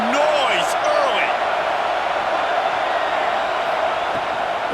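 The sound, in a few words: stadium crowd noise at a football game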